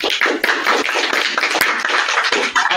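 Audience clapping at a Racket programming conference talk, a brief round of close, crisp hand claps with no speech over it.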